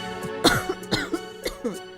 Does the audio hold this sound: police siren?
no